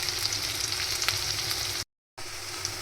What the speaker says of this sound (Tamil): வெங்காயம் லைட் அண்ட் ப்ரௌனியாக வதங்கி வந்துட்டுருக்கு